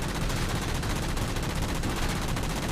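Continuous dense gunfire and rocket blasts from a Halo 4 campaign battle, loud and unbroken, with no speech over them.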